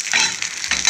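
Garlic frying in a pan with chillies, a close, bright sizzle with crackling bursts and a stirring scrape over about a second, no voices.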